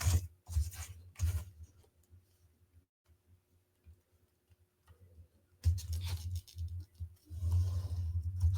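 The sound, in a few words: pencil drawing a line on building material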